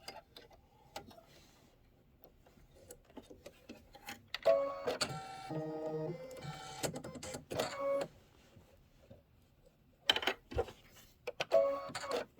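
An embroidery machine stitches a placement line for an orange peel quilt design, sounding as rapid rhythmic mechanical chattering in two busy bursts separated by quieter pauses.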